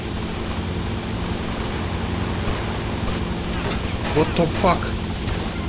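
A pursuing helicopter in the video game GTA Vice City gives a steady, loud rotor and engine drone throughout, with game noise and a man's brief startled exclamation over it.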